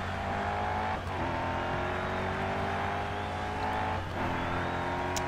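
A Bugatti Veyron in the GRID Autosport racing game holds a loud, steady engine whine with gear-like pitch steps and a brief dip around each shift.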